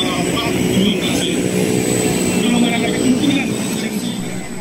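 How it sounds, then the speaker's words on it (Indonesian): Military fighter jets, F-16 and Hawk 100/200 aircraft flying in an air force exercise, produce a steady broadband roar that holds loud and continuous throughout, with speech likely present beneath the engine noise. "melibatkan 6 pesawat tempur jenis F-16 dan Hawk 100-200"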